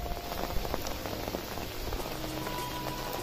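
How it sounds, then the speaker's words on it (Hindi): Heavy rain pattering densely on a surface in Nainital, a constant close hiss of drops with no voices. "थोड़ा नहीं तो ऊपर ही चढ़ने वाला पानी, इतना बारिश है।"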